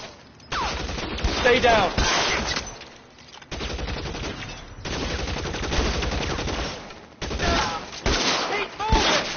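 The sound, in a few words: gunfire in L.A. Noire video game shootout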